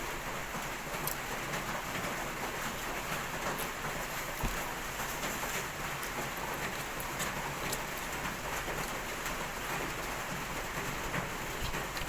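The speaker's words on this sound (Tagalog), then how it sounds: "Maulan po sa Pasay." Steady rain falls continuously in Pasay, a dense hiss of drops on surfaces with occasional louder splashes, no voices.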